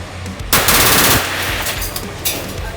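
Shotgun fire at an outdoor gun range: one loud blast with a long rumbling tail, followed by fainter pops and echoes.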